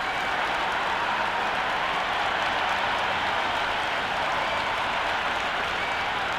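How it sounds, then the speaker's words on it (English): A dense cricket crowd at a T20 World Cup match between Afghanistan and UAE cheers and applauds loudly and continuously, a broad roar of clapping and voices throughout. "this crowd is already making it hard for me to be heard"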